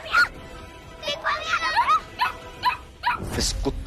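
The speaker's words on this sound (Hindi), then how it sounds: "इस कुत्ते ने सारा प्लान बिगाड़ दिया" A dog in a Hindi TV drama scene gives short, high barks and whimpering yips in quick bursts, fairly close, with voices around it.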